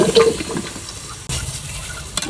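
Cauliflower being sautéed with spices in a pan, loud close stirring and scraping over a constant sizzle, with a brief break partway through.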